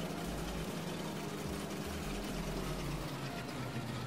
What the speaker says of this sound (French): Avec l'accélération du moteur et tout.